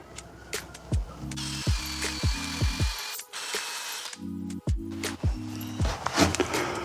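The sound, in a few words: drill-driven wheel spinning to remove badge adhesive residue from car paint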